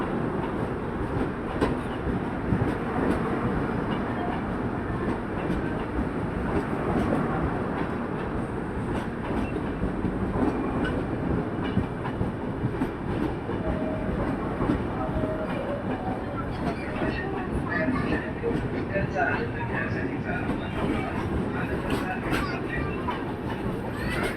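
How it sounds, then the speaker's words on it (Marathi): The Mahanagari Express rumbles steadily through Kasara station without stopping, with clattering rail noise throughout, a continuous loud roar with faint background voices. "keep away from the age of platform number 2, fast train is passing"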